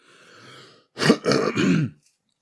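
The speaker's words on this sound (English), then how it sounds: "Let me clear my throat" A quiet low murmur, then a loud, raspy throat clearing in three quick rough bursts, close to the microphone.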